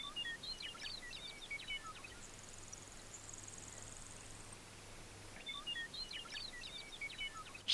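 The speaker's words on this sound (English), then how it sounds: "birds are chirping." Small birds chirp and trill on a quiet morning in western Nebraska, scattered calls in two short bursts, fairly faint over a soft outdoor hush with a thin insect-like whine in between.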